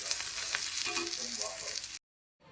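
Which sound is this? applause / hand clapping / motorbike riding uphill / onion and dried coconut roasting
onion and dried coconut roasting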